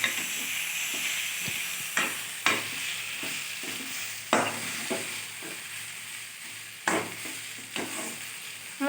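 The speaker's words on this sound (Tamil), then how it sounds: "இப்போ நம்ம நல்லா இதை கிண்டிகிட்டே இருக்கலாம்" Shredded mango for seeval pickle is stirred as it fries in oil, giving a steady close sizzle broken by several louder scraping strokes of the stirring spoon at irregular intervals.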